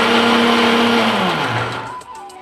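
A mixer grinder whirs loudly, grinding soaked lentils with dried chili and fennel, its motor pitch dropping as it winds down near the end; no talk.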